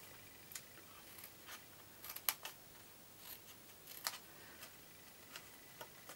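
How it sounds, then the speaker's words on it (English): Scissors snip a small notch into the score line of cardstock for a paper gift box, giving faint, sparse crisp clicks and cuts spaced irregularly in a quiet room. "So taking your scissors, the score line, and then just take a little niche out of it."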